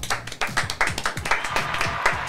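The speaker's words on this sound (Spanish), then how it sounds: "Un aplauso." Short burst of rhythmic clapping from a small studio group on a Spanish-language talk show, a few seconds of sharp, evenly spaced claps close up.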